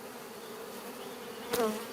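Honeybees buzz inside an opened hive full of brood and nectar, a close, steady hum of many wings with one louder bee zipping past near the end.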